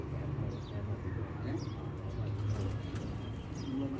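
Sialkoti pigeons in a loft give soft, low, repeated coos, close and fairly quiet, over a gentle background of other birds.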